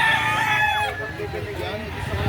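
A rooster crows loudly and close by at a busy chicken market in Lipa City, Batangas, its drawn-out call filling the first second before fading into crowd chatter and general market noise.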